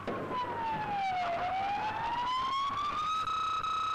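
A police siren wails nearby, its pitch dipping and then rising in a long sweep before settling into a steady high tone.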